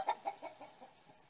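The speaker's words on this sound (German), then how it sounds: "Sorry, das Huhn." A chicken clucking nearby in a quick series of about six short clucks that trail off and fade.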